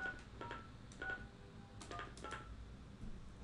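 Telephone keypad DTMF tones key in a zip code, a short series of faint, separate beeps in an uneven rhythm over a low background hum.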